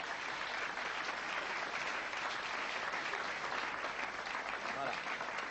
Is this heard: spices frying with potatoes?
no